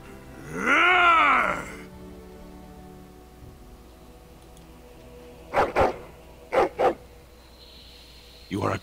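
A dog in the video game Dragon Age Origins gives a long groaning whine followed by several short sharp barks in quick pairs, loud against a quiet game background.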